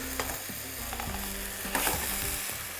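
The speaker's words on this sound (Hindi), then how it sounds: "ये देखिए तेज़ आंच पे किया फ्राई" Shahi qorma fries over a high flame, loud close sizzling with repeated metallic stirring and clanking of a spoon against the pot, no talk.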